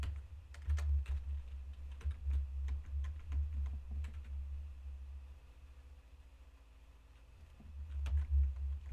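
Keys clack on a computer keyboard in a quiet room during a Linux lecture, soft irregular taps coming in short runs with a pause in the middle, over a low steady hum.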